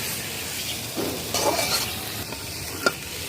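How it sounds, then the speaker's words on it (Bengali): Cauliflower and new potato bhaji is stirred in a hot pan over a stove, a constant close sizzle with a few scraping strokes and one sharp metal clink near the end. "একটু নেড়া দিচ্ছি এখন ভাজিটা"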